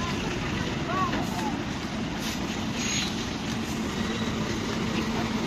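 Busy roadside traffic with many vehicles passing, a dense continuous rumble and whoosh of engines and tires, steady and fairly close, with wind noise.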